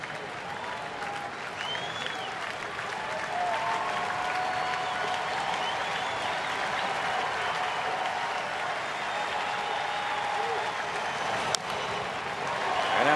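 Stadium crowd of about 25,000 at a Rockies at Braves baseball game cheering on its feet, a broad continuous roar with clapping that swells gradually, whistles and shouts rising out of it.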